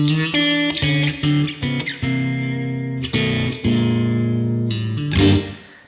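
Electric guitar chords on a Greco guitar built by Matsumoku, played with effects, several strummed and sustained notes ringing out with a shimmering, slightly distorted tone, loud and close.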